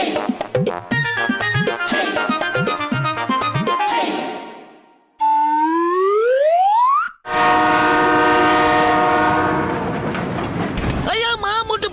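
A cartoon train from Motu Patlu plays out after a stretch of lively music: a rising whistle-like tone, then a long, loud, steady horn blast, ending in a burst of clattering motion.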